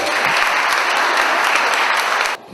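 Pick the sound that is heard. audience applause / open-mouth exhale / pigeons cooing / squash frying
audience applause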